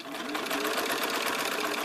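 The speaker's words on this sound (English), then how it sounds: "Stretch it a little bit and then continue on sewing." A sewing machine runs steadily along a curved seam in fabric, a continuous close, even whirring stitch rhythm with no pauses through the short stretch.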